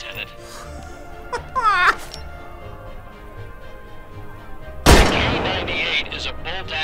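Karabiner 98k bolt-action rifle fire in the WWII VR game Medal of Honor: Above and Beyond, one sharp loud shot with a ringing tail, preceded by faint mechanical clicks and a voice.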